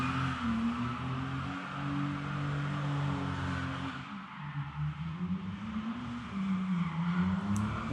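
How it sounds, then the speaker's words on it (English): A nearby car doing burnouts gives a steady droning engine roar with wavering pitch that dips briefly mid-way and then surges again, loud and continuous throughout. "now someone's doing burnouts"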